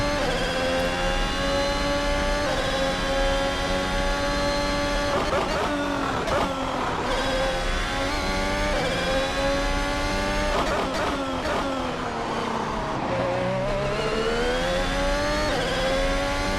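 Formula 1 2022 race car engine in a sim racing game, a continuous high-pitched engine whine rising and falling through gear shifts and revs, loud and up close for the whole stretch.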